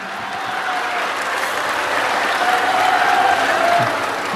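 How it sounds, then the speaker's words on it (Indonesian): Audience applause at an Islamic ngaji gathering in Indonesia with Gus Muwafiq, a steady wash of many hands clapping that holds evenly throughout at moderate volume. "tepuk tangan?"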